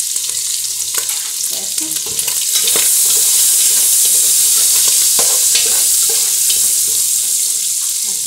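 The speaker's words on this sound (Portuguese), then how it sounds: "Vou botar aqui alho picado, tá aqui três dentinhos" Minced garlic, three cloves, sizzles loudly in a pan with Tuscan sausage, a steady close frying hiss that grows louder partway through, with brief stirring scrapes and a short spoken word.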